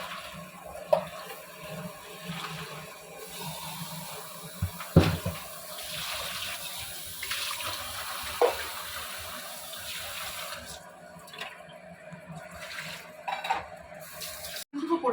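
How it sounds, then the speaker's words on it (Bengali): Hot water runs from a tap over mutton being washed in a sink, a steady splashing stream with occasional clunks and knocks, fairly close. "গরম জল করে মাংস এবার ধোবো।"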